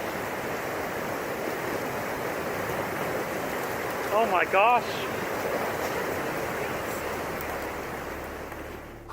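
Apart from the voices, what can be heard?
massive wave of ice and water rushing down river from dam failure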